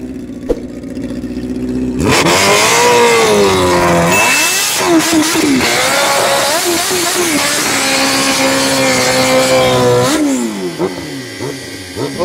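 A loud Kawasaki Ninja H2 motorcycle engine at a half-mile speed event revs hard and roars at full throttle, pitch climbing and dropping through several pulls, starting after a quiet idle.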